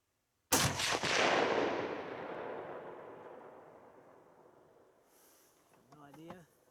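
A single loud rifle shot at an outdoor range, a sharp crack trailing into a long rolling echo that fades over several seconds, followed by someone speaking briefly.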